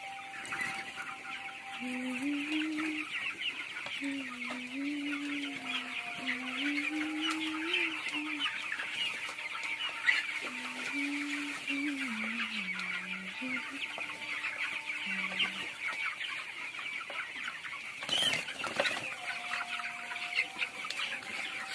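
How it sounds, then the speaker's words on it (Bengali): Young chickens about 21 days old, close by, clucking and calling in repeated short bursts over a steady background hiss, with no talk. "মুরগি এখানে কত কাছে দেখো মুরগিগুলো"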